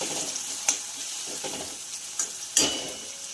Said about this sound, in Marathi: इथं बारीक चॉप केलेला आपण कांदा घातले घालणार आहोत आणि हलकासा फ्राय झाल्यानंतर यामध्ये आपण शिमला मिरची बारीक चॉप केलेली घालणार आहोत